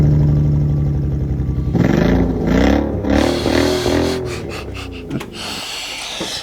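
A car with a homemade $100 exhaust setup and chrome tips revs up and settles in a few rising and falling pulls, loud and close, with a rasping, raspy exhaust note.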